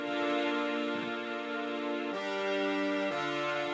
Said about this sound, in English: it's a horn sound from Contact, Session Horns Pro.